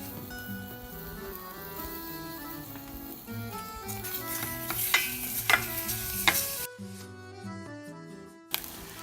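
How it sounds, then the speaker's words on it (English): Beef sizzles in sesame oil in a hot pan while it is stirred and scraped with chopsticks, with clicks and clatters of utensils over a steady frying hiss. "we are going to fry first the beef"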